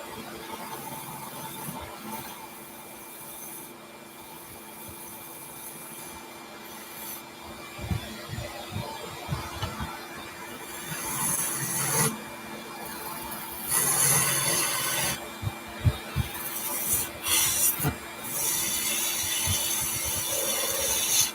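Wood being turned into an egg shape on a lathe, a steady rubbing, scraping hum that grows busier and louder midway as the tool bites, with no talk.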